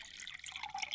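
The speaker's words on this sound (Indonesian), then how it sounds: "Kita tuangkan airnya perlahan-lahan." Water trickles slowly from a plastic bottle into a container during a classroom geography demonstration, a soft, close, bright splashing and dripping with no talk.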